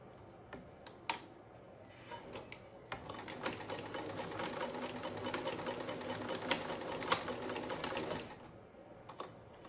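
Sewing machine stitching a zippered seat cushion cover for a front porch, its steady whirring motor running close and continuous for about seven seconds between a few clicks at the start and a quiet stop.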